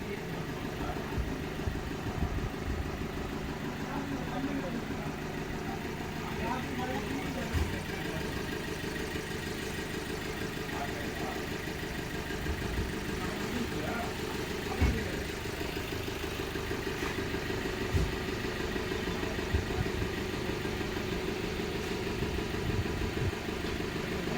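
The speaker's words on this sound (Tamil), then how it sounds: "இன்ஜின் ஏற்ற வேண்டியதாக ஏற்றி நம்ம ஸ்டார்ட் பண்ணி பார்க்க வேண்டியது" A Tata Ace BS6 light truck diesel engine idles steadily close by after an engine change, a continuous low rumble with occasional small knocks and clicks, no voices.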